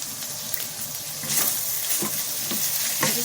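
Chicken fried rice stir-fried over a high flame, a loud continuous sizzle with quick stirring scrapes of a spatula close by and no speech.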